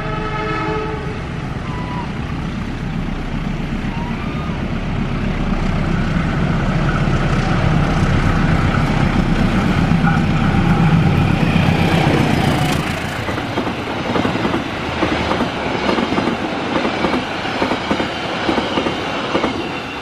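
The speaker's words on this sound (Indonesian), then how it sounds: "Persiapan melintas langsung stasiun Rancakek." A Pasundan passenger train runs straight through Rancaekek station on a rainy day, its loud rumble and wheel clatter swelling as it nears and passes close by, with a brief horn-like blast near the peak before the roar eases.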